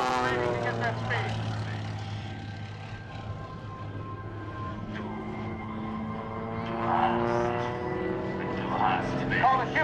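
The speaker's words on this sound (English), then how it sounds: "Now he regains control of the aircraft, reorients himself, and exits the show area. Accelerating to get that speed." A single-engine aerobatic airplane at an airshow pulls out of an inverted spin and accelerates away, its steady propeller drone droning on at a distance with a slight swell toward the end, while a commentator talks over it throughout.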